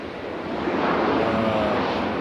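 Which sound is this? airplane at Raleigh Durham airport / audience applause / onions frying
airplane at Raleigh Durham airport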